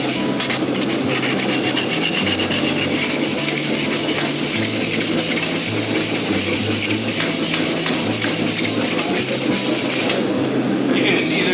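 Abrasive grit sanding a horse hoof at a farrier clinic, a steady close rubbing rasp with rhythmic strokes running continuously for about ten seconds before easing off.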